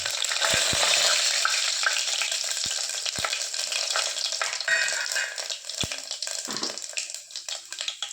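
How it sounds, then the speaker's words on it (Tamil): Whole cumin, fennel, black pepper and a black cardamom pod crackle and sizzle in hot oil for a quail masala gravy, a loud, dense fry with a few sharp knocks of a spoon against the pan. "எண்ணெய் காஞ்சிச்சு இது கூட ஜீரகம் சோம்பு மிளகு ஒரே ஒரு கருப்பு இலக்காய் வச்சுருக்கேன் அதையும் சேர்த்து போட்டுக்கிறேன்"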